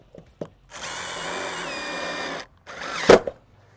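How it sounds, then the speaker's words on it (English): A power drill drives screws to fasten a gutter guard to a gutter, with a steady whirring run of about two seconds, then a second short burst ending in a sharp clunk. Brief taps come before it, and no one speaks. "Just put a couple screws in to hold it."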